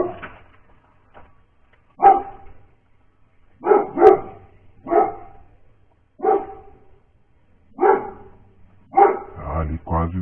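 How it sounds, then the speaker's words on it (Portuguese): A neighbour's dog barks in short single and double barks spaced a second or two apart, moderately distant, with a quiet voice and rustling in the gaps. "Ó, cachorro do vizinho."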